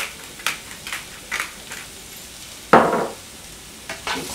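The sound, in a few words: cherry tomatoes frying and sizzling in a pan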